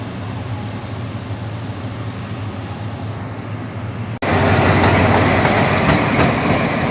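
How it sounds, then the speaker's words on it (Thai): A Thai railway locomotive throttles up to full power, a steady rumbling drone that suddenly jumps much louder about two-thirds through and stays roaring to the end, with no voices. "เร่งเครื่องเต็มที่สุดกำลัง"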